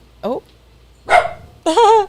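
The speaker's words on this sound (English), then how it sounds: "The dog just started barking" A dog barks three times in the middle of a podcast recording, short loud yelping barks spaced about half a second apart, close to the microphone with no talk over them.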